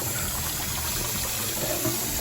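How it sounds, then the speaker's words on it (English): Hot water from a pot of boiled eggs pours out in a steady, continuous splashing gush, close by and moderately loud, with no talk over it. "Actually, just pour the hot water out."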